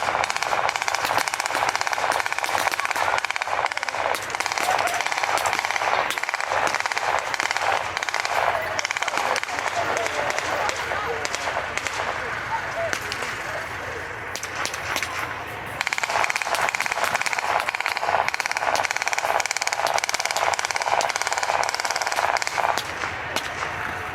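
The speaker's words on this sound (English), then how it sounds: "the infantry section using fire team maneuver, keeping constant fire to keep the enemy heads down" An infantry section fires blank rounds during a Tankfest battle demonstration, keeping up constant fire while advancing in fire teams. The gunfire is dense and continuous, with overlapping rapid bursts and single shots, loud and sustained outdoors, and a faint voice runs beneath it.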